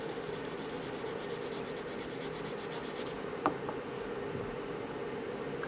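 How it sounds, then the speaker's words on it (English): A polishing block buffs the surface of a plastic model in soft, quick scrubbing strokes that fade after a few seconds, broken by a single faint click. "we're going to take our polishing block and just buff out that surface"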